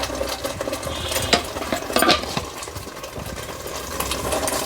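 A spoon scrapes and stirs a pandugappa fish curry seasoned with turmeric in a pan. Close, uneven stirring noises sit over a low, constant background with a soft sizzle, and no one speaks.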